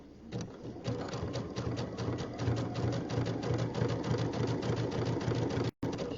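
A sewing machine stitches down a strip on a jelly roll rug, running steadily with a fast, even mechanical clatter and low motor hum for about six seconds before a brief stop near the end.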